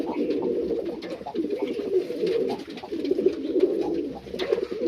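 Pigeons coo steadily in a loft where a pair of new birds has been added, their soft throaty calls overlapping close by with no talk.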